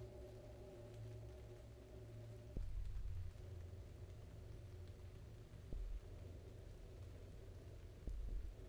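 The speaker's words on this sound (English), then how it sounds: "It's raining." Steady rain falls with low, rumbling swells that suggest thunder, faint and distant overall, with no talking.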